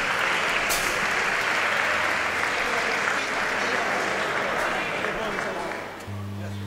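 Loud, dense audience applause at a live music show fills the room as a sustained roar of clapping, easing slightly before tapering near the end.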